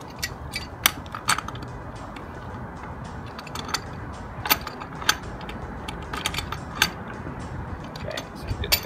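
Small clicking and ratcheting taps from tightening a gas line quick-connect fitting during a home leak test, scattered and irregular over a low background hum, fairly quiet and close.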